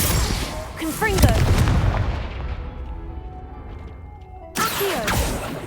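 Confringo explosive spell cast in Hogwarts Legacy, a loud booming blast that rings out and decays over several seconds before a second burst of game action starts near the end.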